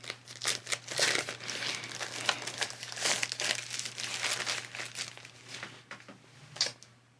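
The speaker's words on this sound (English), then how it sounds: "Let's go ahead and get this out of the plastic." Plastic packaging crinkles and rustles in bursts as drone parts from a DJI Air 2S box are pulled free, close and fairly quiet over a low steady hum.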